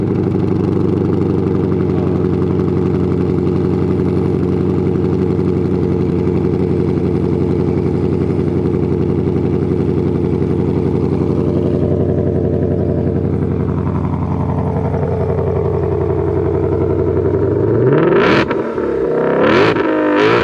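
A car with a mid muffler delete idles with a deep, loud, steady exhaust drone up close at a roll racing meet, then several sharp revs rise and fall near the end. No talking is heard.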